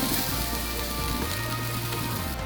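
Lemon slices sizzle on a grill over an open fire, a steady, dense crackling hiss that stays even and close throughout.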